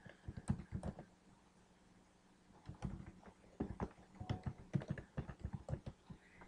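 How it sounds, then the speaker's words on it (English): Quiet typing on a computer keyboard: bursts of soft, rapid key clicks in uneven runs, close by, with a short pause in the middle. "So you type in an email address."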